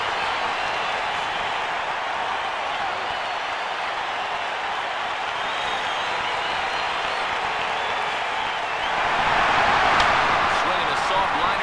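A baseball stadium crowd in MLB 09 The Show roars in a broad, continuous wash of cheering and clapping, swelling louder near the end as the count runs full.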